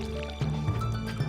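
Watering crops with a watering can in the farming video game Stardew Valley: a short burst of splashing, pouring water plays over steady game music.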